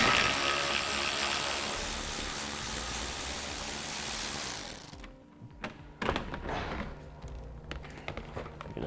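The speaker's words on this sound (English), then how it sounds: "we take these 3 10mm bolts out." A ratchet removes 10mm bolts at the front of a 2013 Cadillac SRX during a base plate install: steady broadband noise for about five seconds, then sparse, close, irregular metallic clicks and taps.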